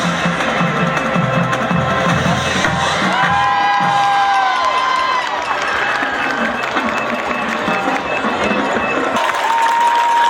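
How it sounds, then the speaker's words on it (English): Cyclone fans cheering and applauding for the Elizabethton band at an Elizabethton vs Greeneville high school football game, a steady loud crowd roar with shouts over the band's sustained horn tones. "Cyclone fans cheering on the mighty Betsy band"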